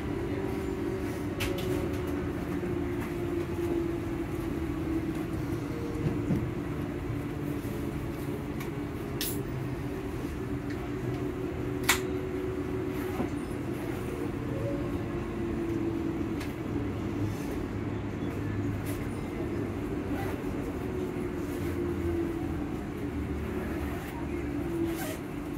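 Train running at steady speed toward Edinburgh Park station, a continuous low rumble and rail drone with a few brief clicks, heard from inside the carriage without talk.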